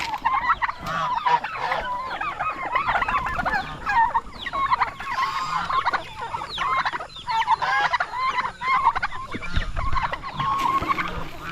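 A flock of young turkey and chicken chicks peep and chirp continuously, close and busy, while being fed yellow corn on a farm, with occasional low thumps.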